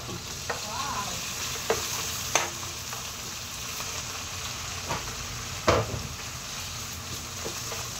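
Vegetables frying for pinakbet in a pan, a steady close sizzle broken by sharp pops and splatters every second or so, with no talking over it.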